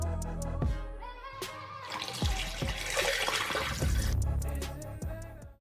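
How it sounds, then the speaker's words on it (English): Water drains from a flood-tested shower pan during a bathroom remodel, a loud gurgling, rushing flow with sloshing and knocks throughout, close and continuous with no talking. "So what I'm gonna do now is I'm gonna go ahead and drain it."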